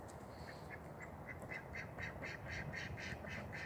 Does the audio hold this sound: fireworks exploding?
no